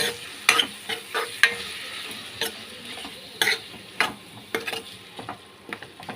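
Boiled, cleaned tripe (boti) for a curry is tipped into a pan and stirred, giving soft sizzling with irregular scraping and clacking of a spoon against the pan, alone and fairly close.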